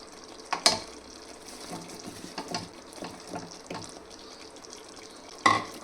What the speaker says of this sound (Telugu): ఇప్పుడు మనం ముందుగా తీసి పెట్టుకున్న ఆలు వేసుకుంటున్నాను.